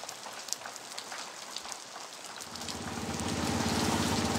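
Steady rain patters on surfaces during a long-distance scooter ride, a continuous hiss with scattered drops. A low engine drone swells in during the second half and grows louder toward the end, with no talking.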